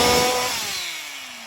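A small Husqvarna chainsaw engine whines at high revs during carburetor tuning, then winds down, its pitch sliding lower as it fades over a second or so.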